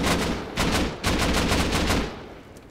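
Bursts of AK rifle fire in the Rust survival game during a base raid, two or three rapid volleys of shots, loud and close, then trailing off into quieter reverberation.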